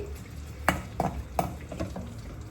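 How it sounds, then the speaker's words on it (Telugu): Mustard seeds, green chilies and onion fry in hot oil with a low steady crackle, broken by a few sharp stirring scrapes close by. "ఫ్రై అవుతుంది"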